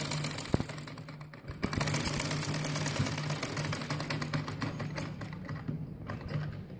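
A sewing machine runs close by, stitching the channel of a poncha; a soft knock comes first, then a steady mechanical whir with a light ticking rhythm that keeps going to the end.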